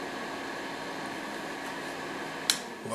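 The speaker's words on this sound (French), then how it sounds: "C'est le bruit que fait un déshydrateur." A food dehydrator runs with a steady, even fan whir and airy hiss, constant in level throughout, broken once by a single sharp click near the end.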